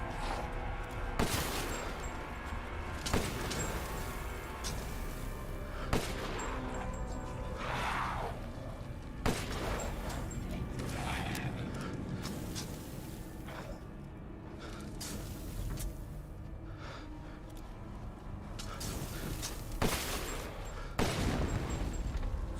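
Gunfire rings out in the video game Resident Evil 8, with sharp, loud single shots spaced several seconds apart over a steady rumbling game backdrop, some followed by crashing or booming impacts.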